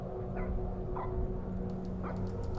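A dog barks three times, muffled and spaced unevenly, from a laundry room in the horror game Keep Your Voice Down At Grandma's House, over a steady low game drone. Sharp ticking clicks follow near the end.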